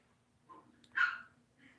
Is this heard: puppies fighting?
yes